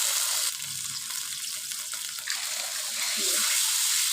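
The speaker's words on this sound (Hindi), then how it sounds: "2 कप चावल हैं, तो इसमें मैं 3 कप पानी का ऐड करूँगी।" Water poured into a hot pan of rice and peas for pulao hisses and sizzles, a steady bright rush that swells toward the end, close and loud.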